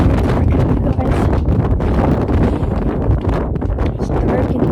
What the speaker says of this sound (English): It's dark and it's kind of windy.